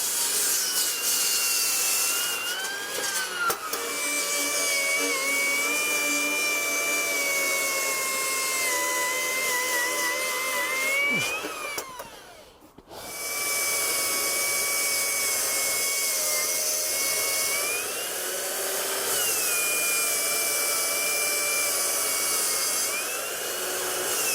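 A large cordless beam saw cuts through a structural timber beam with no dust extraction, a loud continuous whining rip that briefly drops out and dips midway before the cut resumes at full volume.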